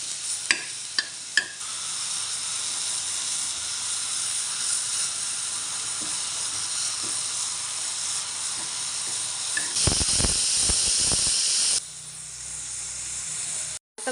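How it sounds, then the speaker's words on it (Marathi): Grated coconut being dry-roasted in a pan, a loud continuous sizzling hiss with occasional scraping stirs, a few sharp clicks near the start, and a brief burst of heavier scraping toward the end. "आता खोबरं टाकून घेऊ आपण।"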